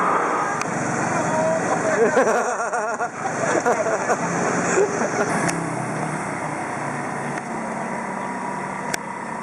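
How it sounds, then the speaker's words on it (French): Scooter engine straining and smoking on a street in Taiwan, a strained, continuous buzzing drone with traffic noise around it, heard amid nearby talk. "Oh, il en chie le scooter."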